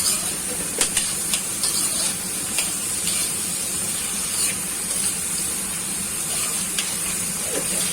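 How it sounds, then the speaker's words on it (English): Mixed vegetables roasting in a hot pan give a continuous loud steamy hiss and sizzle, steady throughout with a few faint clicks, no talking. "हमारी vegetable roast हो रही हैं"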